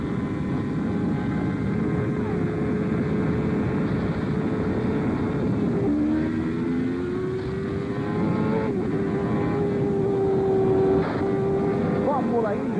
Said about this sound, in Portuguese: Vamos sentir agora a saúde do motor Ilmo do mexicano Adrian Fernandes.